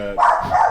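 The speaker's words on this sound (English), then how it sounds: "dog Todd making an appearance" A dog gives a couple of quick, sharp barks indoors, close and fairly loud, lasting under a second.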